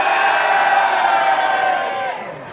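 A Star Wars Celebration 2016 convention crowd at a cantina event cheers and yells loudly all at once, a dense sustained roar of voices that fades slightly at the end.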